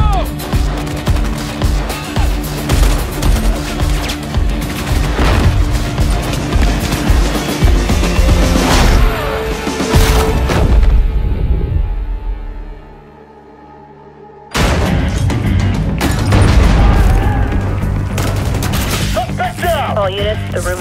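Gunfire in the shooter game Battlefield Hardline during a hostage rescue mode, with loud bursts and booms filling most of the stretch, a short quiet gap, then renewed dense fire with voices talking over it.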